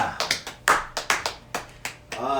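A small comedy-show audience claps sparsely, with about nine distinct, fairly close hand claps in an uneven rhythm and a murmur of voices underneath.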